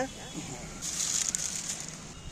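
Jackfruit pieces go into hot oil in a home kitchen, and a bright sizzling hiss with light crackles swells up after a quieter start and holds steady.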